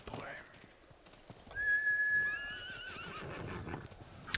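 A horse in the samurai game Ghost of Tsushima gives a clear, high whinny with a trailing wavering neigh, preceded by soft hoof clip-clops and faint snorts, heard fairly close in a quiet scene.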